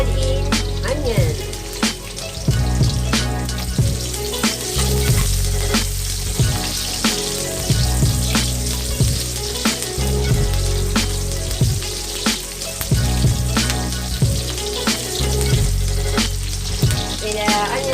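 Onion frying in oil for prawn curry, a loud continuous sizzle and crackle with repeated rhythmic stirring scrapes, up close, with faint background music.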